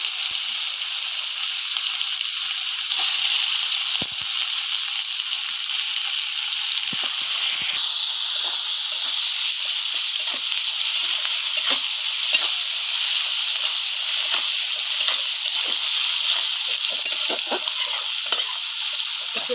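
Chopped onions and whole cumin sizzle in hot oil in a home kitchen pan for an egg curry, a steady loud bright hiss with crackling pops throughout, no voices.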